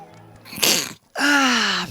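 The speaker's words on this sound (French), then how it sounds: "pourquoi j'arrête pas d'éternuer en ce moment, c'est incroyable." A single loud, close sneeze bursts out suddenly, followed by a short pause and then a voiced groan or exclamation trailing off.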